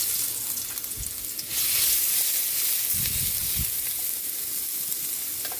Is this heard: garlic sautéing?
yes